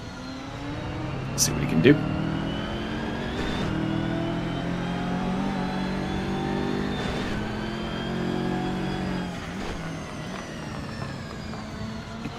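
Race car engines in a sim racing game, a BMW M2 chasing Lotuses, a steady droning engine note with shifting pitch and occasional gearchange blips under continuous commentary.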